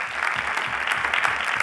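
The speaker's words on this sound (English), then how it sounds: "let's give our amazing panelists a round of applause" Audience at an educator panel session claps steadily for the panelists, a dense, even patter of hands for under two seconds.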